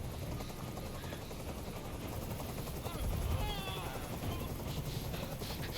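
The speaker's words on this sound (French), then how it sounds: "Je peux plus supporter ce bruit. Fais dégager cet hélicoptère, maintenant." Steady helicopter rotor drone from the video game Detroit: Become Human, a constant loud low thudding wash throughout.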